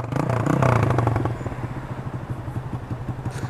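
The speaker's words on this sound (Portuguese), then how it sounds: "Escapamento só o cano, tio." A motorcycle with a straight-pipe exhaust revs hard and close, then settles into a rough, loud, rhythmic idle that pops and chugs.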